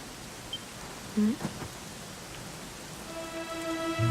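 Steady rain falls in the Dragon Quest 11 game world, a soft continuous hiss throughout, with a few faint tonal chimes from the game near the end.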